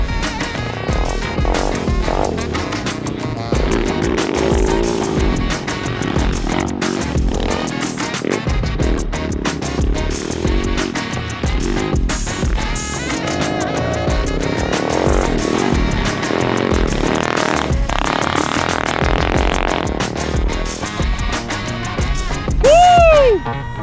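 Small 110cc and 125cc pit bikes rip around a backyard dirt track, their engines buzzing loudly and continuously up close, revving up and down between shifts, with a sharp rising whine near the end.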